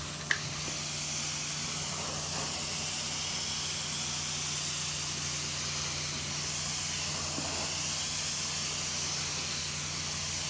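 A truck-mounted carpet cleaner sprays high-heat water on old, oily carpet: a steady, loud hiss of pressurized spray runs without pause over a constant low machine hum, with a faint click or two.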